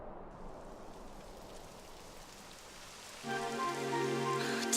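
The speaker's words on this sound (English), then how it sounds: "It would have to go and start raining, wouldn't it?" Rain begins falling in the video game Dragon Quest XI, a soft, even hiss of rainfall that continues while sustained musical tones swell in over it toward the end.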